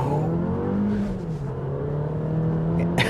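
A 2024 Alfa Romeo Tonale Veloce turbo plug-in hybrid launches hard from a standstill after brake-torquing in dynamic mode, its engine note rising in a loud, close, sustained vroom with a sharp click near the end.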